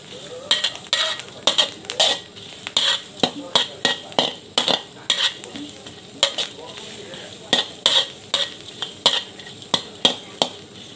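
Beetles dry-roasting in a pan with no oil, tossed again and again so that the hard bodies rattle and scrape in rhythmic bursts over a faint steady sizzle.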